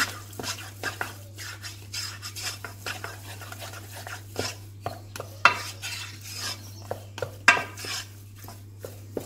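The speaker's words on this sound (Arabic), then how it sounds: "ها هي دخلت البيضه الاولى، نحركوها مزيان باش تنشف باش نديرو البيضه الثانيه" A spoon clinks and scrapes around a bowl as an egg is beaten into batter for a chocolate pastry, with steady rhythmic taps and a constant low electrical hum underneath.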